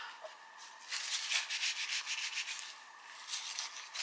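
A finger rubs firmly across the surface of a dried intaglio ink print on paper, making soft, scratchy back-and-forth strokes in a steady rhythm, faint and close with no voices.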